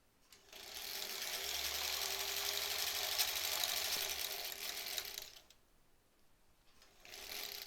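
Sewing machine stitching fabric strips for face masks, a close, fast steady whirring run of about five seconds, a short pause, then the motor starting again.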